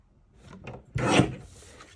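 Paper trimmer cutting card stock, a short rasping slide of the blade with a brief bump before it, close and fairly loud.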